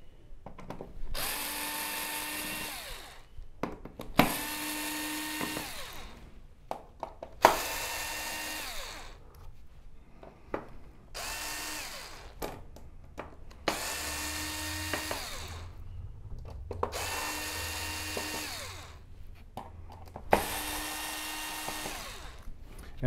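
Power screwdriver backing screws out of the main board of an LG OLED65A1PUA television, about seven whirring bursts of a couple of seconds each with short pauses between, close up and alone.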